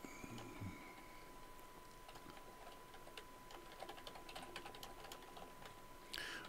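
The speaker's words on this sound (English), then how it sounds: "I can start typing my keyed note" Soft, quick clicks of computer keys being typed, faint and irregular over a steady low hum, with no voices.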